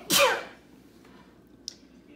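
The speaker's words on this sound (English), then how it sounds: "I'm going to sneeze." A single close, loud sneeze bursts out at the start, then quiet room tone with a faint small click near the end, during an indoor vlog about planner supplies.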